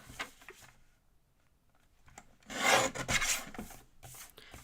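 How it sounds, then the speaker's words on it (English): A craft piece being trimmed by hand, with a soft start and then a burst of rasping, rubbing strokes close by, fading back to quieter scratches. "I will trim this down a little bit."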